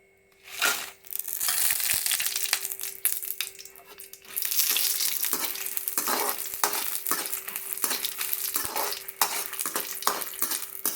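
Red chillies fry and get stirred in a hot pan for idli podi, a loud crackling sizzle with repeated scraping stirs and crunchy rustling, rising after a quieter start and continuing steadily, with no talk.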